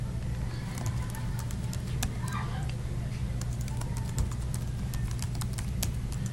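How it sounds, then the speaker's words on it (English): Typing on a computer keyboard while working in Photopea: sparse, light key clicks in irregular bursts over a steady low hum. "if I click anywhere, it's going to place my cursor, and I can just begin typing."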